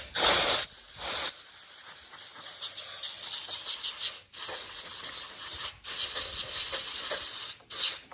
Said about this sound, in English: So I'm just gonna blow some crap off of this carburetor.